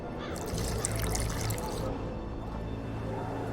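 In The Witcher 2 video game, water is poured into a mix of burnt lime, making a close, steady trickle and splash for a couple of seconds that then eases into a softer, continuing pour.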